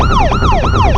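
A loud, close ambulance siren wails in a rapid repeating yelp, sweeping up and down about three times in a second.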